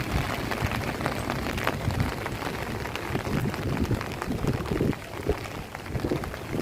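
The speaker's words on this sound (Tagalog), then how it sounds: "So umuulan pagid ni karon balik guys" Steady rain pours in Surigao City, a continuous hiss of drops with heavier low rumbling patches, close and fairly loud with no talking.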